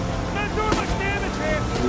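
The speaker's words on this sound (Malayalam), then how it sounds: "നമ്മളെ ബോട്ട് വലിയ ബോട്ടാണ്" A boat engine drones over splashing water in the video game Uncharted 4, with someone talking over it throughout.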